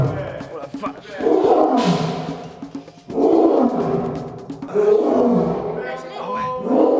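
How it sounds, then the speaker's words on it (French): Lionesses roar in repeated long, loud bursts at a wildlife park, each swell rising and fading, with people talking and reacting nearby between and over the calls. "le rugissement qu'on a entendu, c'était les rugissements des femelles"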